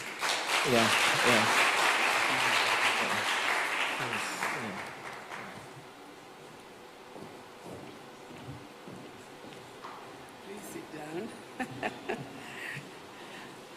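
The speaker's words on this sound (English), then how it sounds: "And a round of applause for Professor Maggie Chigozi." An audience at a leadership and women's empowerment event gives loud applause for a professor that fades after about five seconds, followed by talk and a few scattered claps.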